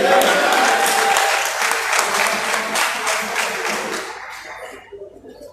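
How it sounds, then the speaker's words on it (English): A crowd applauds steadily with dense clapping, fading out toward the end. "Please give our real father another round of applause"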